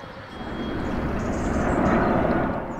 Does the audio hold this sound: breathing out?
no